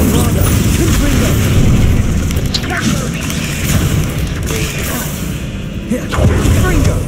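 Explosion spells like Bombarda and Confringo going off in a Harry Potter video game: dense, loud booming blasts and thuds stacked over continuous rumbling action, with a voice shouting spell names over the noise.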